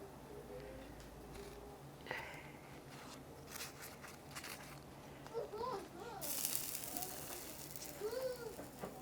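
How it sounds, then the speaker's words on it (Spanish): Water boils in a pot fitted with a steaming rack for cooking tamales, giving a faint, steady bubbling hiss with a few soft clinks and scrapes. "ya tengo aquí el agua hirviendo"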